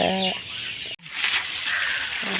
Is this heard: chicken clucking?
yes